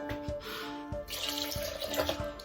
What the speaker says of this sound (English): Now you add that cup of water.